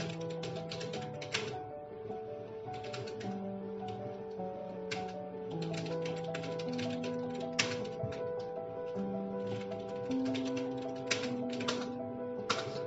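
Rapid tapping on a computer keyboard while text is entered into Tally ERP 9 accounting software. The clicks come in quick bursts, close and clear, over steady background music.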